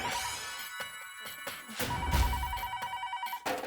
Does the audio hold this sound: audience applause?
no